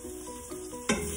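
Fat sizzles steadily in a quick cooker pot as it is stirred, with a brief scraping stir near the end, close and alone with no talk.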